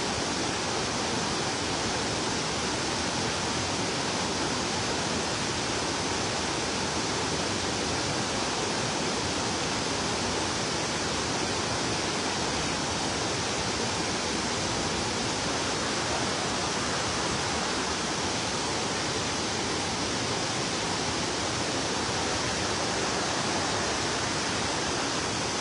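Mag-aso Falls at Kabankalan pours in a steady, dense roar of rushing water that holds constant and fairly loud for the whole stretch, with no voices or other sounds breaking through.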